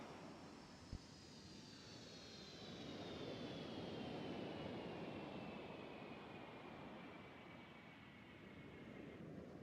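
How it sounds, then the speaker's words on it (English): A jet aircraft with Olympus engines at full throttle during an air show, a broad, distant roar that swells to a peak midway and stays heavy, with a thin high whine gliding slowly downward across the pass. "Sales power's now putting the Olympus engines through their paces. Coming in at full speed again."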